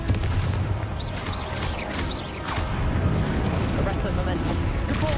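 A Confringo fire curse is cast in Hogwarts Legacy during the Charles Rookwood trial: loud, sustained blasting and rumbling with whooshing spell effects layered over constant combat noise.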